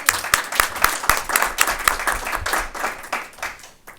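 Board members and audience at a school board of education meeting applaud the committee, a loose round of individual claps heard up close, thinning toward the end.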